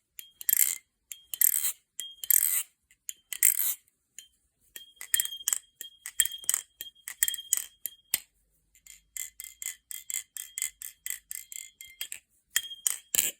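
A custom Reaper balisong butterfly knife is flipped, and its metal parts clink and chime again and again in quick, irregular bursts with short pauses between, crisp and close, with no voices.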